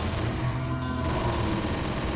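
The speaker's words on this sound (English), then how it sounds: "Alright, we're shooting now." Dense, continuous rapid gunfire crackles in the Roblox zombie shooter Undead Nation, with no pauses across the whole short burst.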